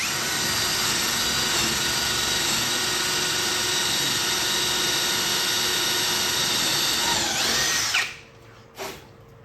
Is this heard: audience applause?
no